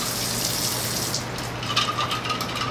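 Cold tap water, with a little ice, pours steadily for tempura batter, a brief continuous gushing that is fairly soft and unaccompanied.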